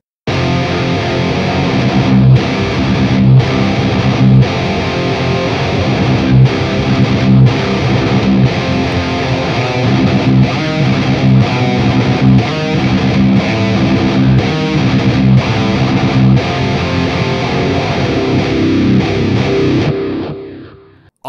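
A heavily distorted electric guitar plays a chugging, rhythmic riff on an AX8 patch, washed in delay and reverb, loud and sustained before ringing out at the end.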